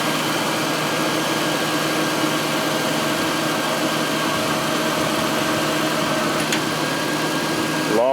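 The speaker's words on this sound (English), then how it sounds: "You can hear it's now reaching that level where the AC compressor is staying on for a very long time now." A 2000 Crown Victoria idles with its AC compressor engaged, giving a steady, even hum and drone that holds at a constant level, close and uninterrupted with no talking.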